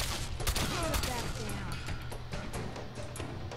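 Rapid gunfire bursts from a two-shot pipe gun in the video game Fallout 4, dense and loud with sharp repeated cracks that overlap someone talking over the action.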